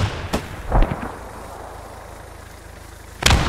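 Grenade blasts in the World War II shooter Post Scriptum: two sharp, heavy booms with rumbling tails, one early and one near the end, separated by a quieter stretch of low battlefield ambience.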